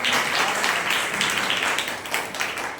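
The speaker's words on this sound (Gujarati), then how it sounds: "ફરી એકવાર જોરદાર તાળીઓ પાડજો." Audience applause at a church Bible speech competition, a dense, steady wash of many hands clapping for about three seconds, fairly close and loud with no talk over it.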